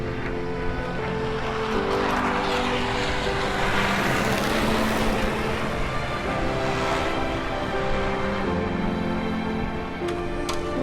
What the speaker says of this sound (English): there's planes coming.